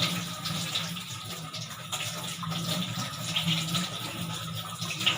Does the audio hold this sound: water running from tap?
yes